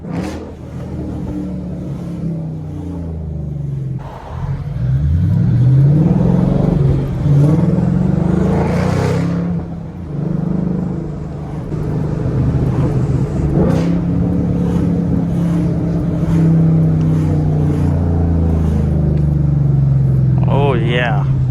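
A straight-piped 2013 Mustang GT engine roars loudly as it revs on a downshift into first gear, rising and falling in bursts inside the cabin with a voice heard over it.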